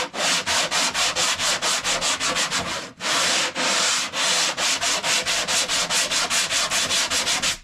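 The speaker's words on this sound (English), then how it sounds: "Just watching me sand" Body filler being hand-sanded on a smashed car quarter panel during auto body repair: steady, close, rhythmic back-and-forth rasping strokes, loud and continuous with one brief pause, no talking.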